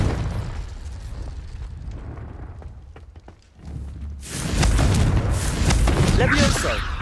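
A Confringo fire spell bursts in the Hogwarts Legacy video game, a sharp crackling blast that erupts loudly after a quieter stretch of game ambience with scattered clicks.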